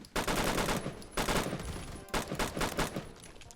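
Rapid automatic gunfire in the Roblox shooter Phantom Forces, including a G3 rifle and an M60, comes in loud, dense bursts separated by short gaps, with no talking.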